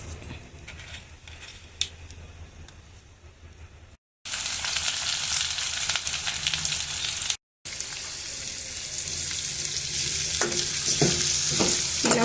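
Cumin and mustard seeds fry in hot oil for an aloo curry, giving a loud, steady sizzle and crackle with stirring, the hiss jumping up sharply as they hit the pan and popping near the end.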